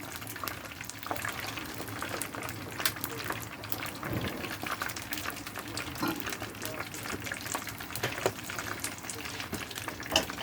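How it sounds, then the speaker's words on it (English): Onions frying in a pan give a soft, crackling sizzle with occasional stirring scrapes, quiet and close, while a person talks intermittently over it. "So onions in the pan."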